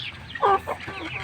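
Rhode Island chickens, large and heavily fed at a farm with chicks nearby, give a few close, distinct clucks, one loud call standing out in the middle of a short burst.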